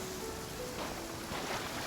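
Steady rain patters and hisses in the Genshin Impact video game, a soft, even wash of falling drops with no talking.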